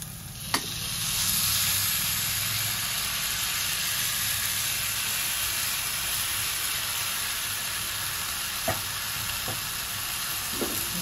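Smashed brinjal sautéing in a pan for brinjal bharta with green thecha: a constant close sizzle broken by a few sharp clicks of a spatula against the pan.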